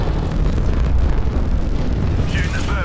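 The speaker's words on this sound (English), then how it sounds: "Shooting the thermite." Thermite grenade going off in the Apex Legends game, a loud roaring burst with sustained rumbling fire noise filling the moment.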